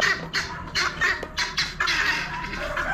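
Guinea fowl and roosters at a poultry auction, harsh repeated squawks and cackles in quick bursts, loud and close, overlapping with a constant background murmur.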